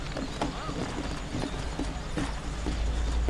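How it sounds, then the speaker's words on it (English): Horses clip-clop at a steady trot through New Orleans in Red Dead Redemption, the hoofbeats fairly faint under a low rumbling background with some talk. "You ain't gonna find sturdier horses than these in all of New Orleans."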